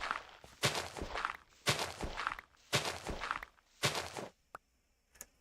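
Footsteps in the video game Minecraft, four clear heavy thudding steps in an even rhythm followed by a couple of fainter taps, with no talking.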